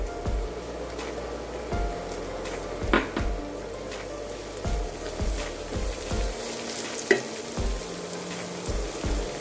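Thinly cut cabbage pieces and carrot frying in a hot pan for vegetable fried rice, a steady sizzle broken by repeated scraping stirs and clacks of a spatula at roughly regular intervals.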